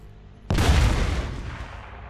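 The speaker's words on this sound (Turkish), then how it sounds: "Çok güzel bir patlama oldu" A single deep bomb explosion in a video game booms suddenly after a quiet moment, then rumbles and slowly fades, heavy and close.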